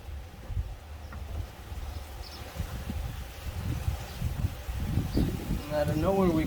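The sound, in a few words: strong wind outdoors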